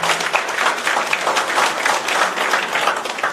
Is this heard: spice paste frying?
no